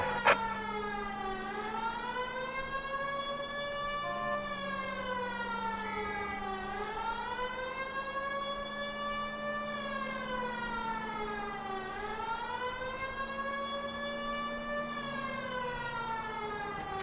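A police car siren from the video game L.A. Noire wails continuously, its pitch sweeping slowly up and down in repeating cycles. The tone is steady and fairly loud, with no voices over it.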